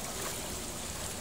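Strong water rushing steadily at a stream's source, a dense, continuous broadband wash heard up close with no voices.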